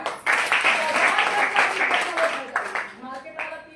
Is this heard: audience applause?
yes